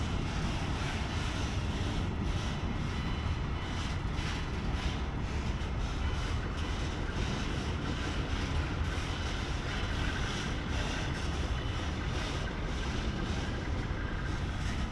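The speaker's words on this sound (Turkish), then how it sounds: "Bitmez bunun kuyruğu şimdi yük treni." A steady, loud rumble fills the whole stretch without letup, a long freight train rolling past nearby near Bursa, Turkey, with heavy low-end roar and no voices.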